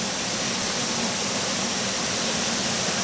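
Waterfall at Erawan National Park, Thailand, a dense, steady roar of rushing water that fills the whole clip without pause.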